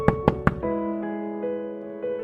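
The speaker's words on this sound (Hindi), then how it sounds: "रात में महिला आश्रय में मदद पाने के लिए दरवाजा खटखटाती है।" Someone knocks at night on the door of a women's shelter: three sharp, evenly spaced knocks, close and distinct, followed by sustained musical tones.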